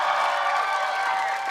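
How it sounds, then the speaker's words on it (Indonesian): Studio audience at an Indonesian TV comedy show applauding and cheering together, a dense, steady wash of clapping and crowd noise filling the room throughout. "Tepuk tangan Krispati."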